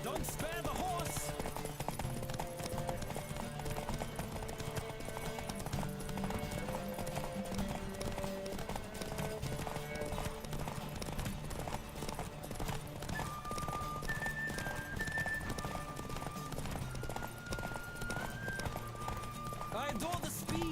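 Continuous galloping hoofbeats of a horse in The Witcher 3: Wild Hunt, a steady fast rhythm carrying on under layered game music, with voices speaking over it and an occasional whinny-like cry.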